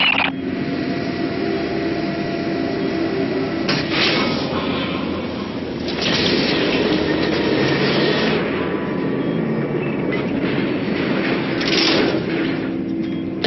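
Heavy cargo tram in the sci-fi video game Lost Planet 3, a steady loud mechanical rumble and whine with rattling surges of machinery, a continuous industrial drone throughout.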